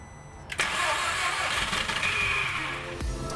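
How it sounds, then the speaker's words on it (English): A junked VW Jetta's engine cranks with the starter and catches, its loud close mid-pitched churn running for about three seconds before it tapers off. "it's cranking for the first time"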